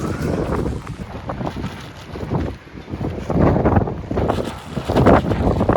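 Strong, gusty wind near a hilltop roars and buffets the microphone continuously, rising and falling in loud surges with no clear voices.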